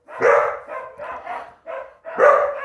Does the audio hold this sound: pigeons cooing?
no